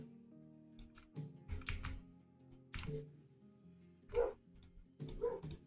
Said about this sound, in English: If you guys can hear my dogs outside barking, I apologize.